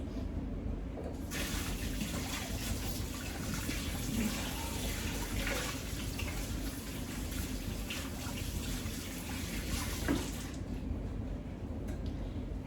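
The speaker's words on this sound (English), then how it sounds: "I'm gonna wash my hands" Tap water runs steadily into a sink as hands are washed during turkey roasting, a close, even rushing hiss that starts and stops abruptly.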